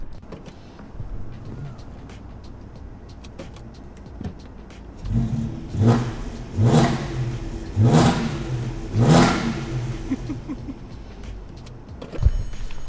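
An Audi A3's VR6 engine with the muffler deleted revs hard several times in a row, loud and raspy with an aggressive, unmuffled bark, settling back between each blip.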